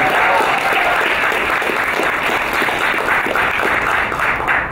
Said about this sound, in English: give it a round of applause.